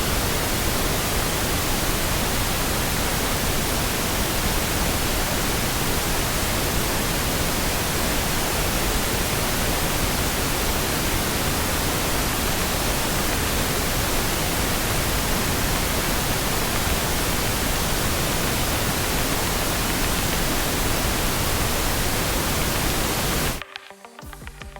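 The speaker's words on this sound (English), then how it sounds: "turn the pink noise on" Loud, steady pink noise test signal in an Ableton Live mixing session hisses continuously for over twenty seconds at an even level, then abruptly cuts off at the end.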